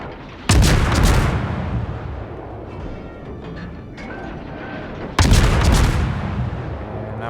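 Warship guns firing in World of Warships, two heavy booming salvos a few seconds apart, each a sharp loud blast trailing into a long rumbling decay over ambient sea noise.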